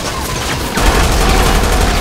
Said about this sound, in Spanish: No se le van a acabar los disparos.